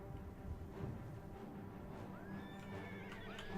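A horse in The Elder Scrolls: Oblivion gives a faint, high whinny, rising and wavering, over a steady low game background rumble with no talking.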